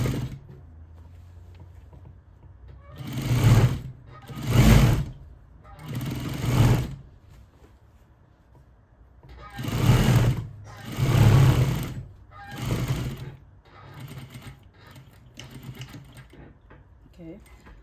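A sewing machine stitches minky fabric for a baby blanket in about seven loud, separate bursts of whirring, with quiet pauses between the runs.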